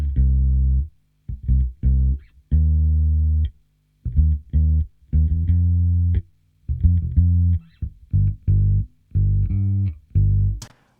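Bass guitar played through a clean amp and picked up by a D6 kick-drum microphone, a run of separate plucked notes and short phrases with gaps between them, full and close, with no one talking.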